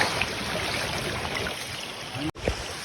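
Rainwater flows across a forest road in the Gir forest during heavy rain, a steady close rushing wash of water that briefly cuts out near the end before resuming.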